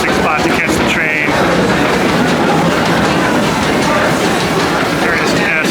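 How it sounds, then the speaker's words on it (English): The Disneyland train passes through Critter Country, a loud, close rumble with rhythmic clattering and a faint whistle-like tone, continuous throughout, while people talk nearby. "here comes the train. I can hear it."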